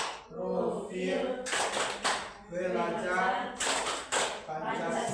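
A group in a classroom workshop does a rhythmic clapping ice-breaker, sharp bursts of hand claps in short patterned sets, alternating with someone speaking between them.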